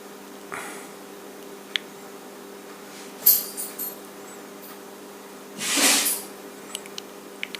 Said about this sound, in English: If you don't know what that noise is, it's Laddie sneezing